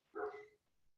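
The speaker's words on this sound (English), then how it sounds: "you may hear my dog barking outside" A dog barks outdoors, a single short bark with a tonal, slightly whiny edge, then quiet; fairly close and clear with no talking.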